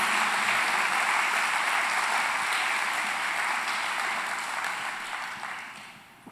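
A church congregation applauds, a dense sustained clapping that holds steady and then tapers off toward the end.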